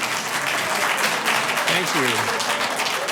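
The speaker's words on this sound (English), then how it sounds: "Again, you're breaking the rules when you clap" Applause from an audience at a city council meeting, dense steady clapping filling the whole moment while a voice briefly speaks over it.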